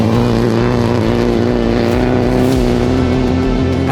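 A Citroen rally car is driven hard on a rally stage, its engine roaring loud and close for the whole stretch with no let-up.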